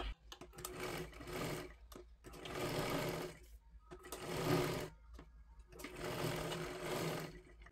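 A sewing machine stitches folded fabric for a katori blouse in four steady runs of whirring, clattering needle action, each followed by a brief pause, close and clear.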